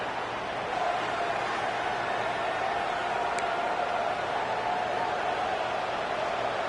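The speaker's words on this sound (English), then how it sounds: "the crowd coming to life here, trying to help this defense down in the red zone" In a football video game, a stadium crowd gives a steady, dense roar of cheering and noise that holds throughout at constant loudness, with no clear voice standing out.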